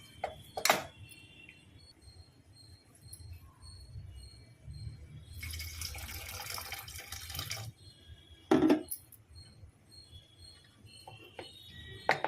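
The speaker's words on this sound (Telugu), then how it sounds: "ఇందులో కొంచెం వాటర్ పోసి, వేడి వాటర్ పోసి మనం కలుపుకుందాం" Hot water poured into a bowl of cooked dal and rice, a soft splashing pour in the middle with a few sharp knocks and clinks of the vessel before and after, close and fairly quiet.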